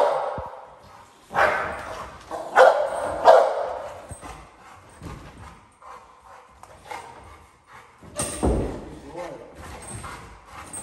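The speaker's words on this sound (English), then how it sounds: "Wait for the bark." A Cane Corso lets out several loud, close barks during protection training, scattered among shouts from the handler and brief scuffling noises.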